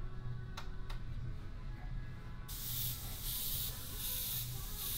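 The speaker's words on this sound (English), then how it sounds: "So I'm just spraying thinner out of it right now." Airbrush spraying thinner at around 30 PSI, a steady broadband hiss that switches on partway through and holds loud and close after a few faint clicks, with no talk.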